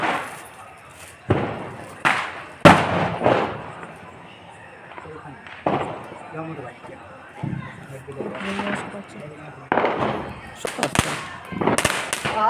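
Diwali firecrackers burst in a village one after another, several loud sharp bangs at close range spread unevenly, with people talking between the blasts.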